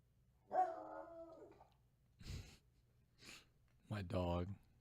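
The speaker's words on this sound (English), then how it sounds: "My dog." A dog barks and yips indoors, a short whining bark followed by a couple of muffled thumps and a louder drawn-out bark, moderately close.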